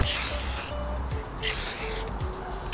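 Two short bursts of aerosol clear-coat spray hiss loudly, separated by a brief pause, close to the microphone.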